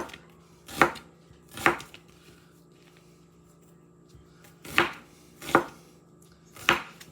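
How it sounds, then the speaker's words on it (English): Knife chopping an onion on a cutting board while making baked steak: five sharp, loud thunks in two groups, with quiet pauses between them and no talking. "And the next step is we're gonna chop an onion."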